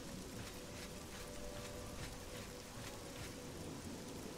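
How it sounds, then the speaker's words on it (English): Steady rain and stormy weather in the video game Oblivion, a dense, even wash of falling drops with a faint low rumble throughout, no voices. "Probably the rain or the storm disturbed them."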